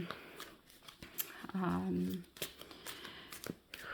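Close, crisp riffling of a tarot card deck, repeated soft shuffles with a brief hum of a voice in the middle.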